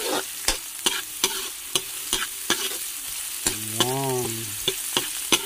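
White onion being sautéed in a pan: a constant sizzle punctuated by regular sharp scrapes of a spatula against the metal, close and fairly loud, with a brief spoken word partway through.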